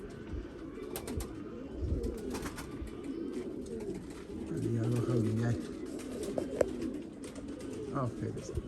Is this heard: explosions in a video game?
no